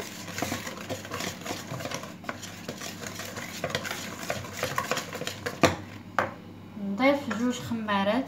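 A flour mixture is stirred in a bowl, giving repeated scraping and clinking strokes at close range, with a voice speaking over the later part.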